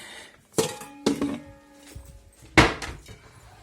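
Glass salad bowls clink and knock as one is lifted and set down on a kitchen scale, three sharp clattering impacts with quieter handling between, close and alone.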